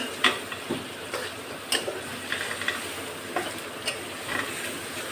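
Fish being stirred while it cooks in a pan, with soft scraping stirs and light sizzling crackle, a few sharper clicks of the utensil against the pan standing out at irregular intervals, fairly quiet and close.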